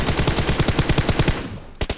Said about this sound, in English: remember this is a fully kitted M4